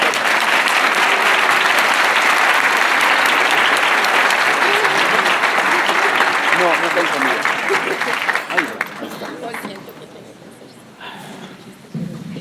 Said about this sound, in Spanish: Un aplauso para Agustín Laje.